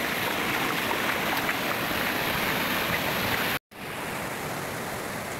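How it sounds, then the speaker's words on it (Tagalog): A large river runs past farmland with a dense, steady roar of flowing water, close and constant, briefly cut by a short dropout before resuming slightly softer. "Malaking ilog."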